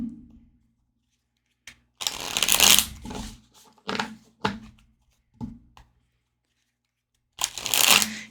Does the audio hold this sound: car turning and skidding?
no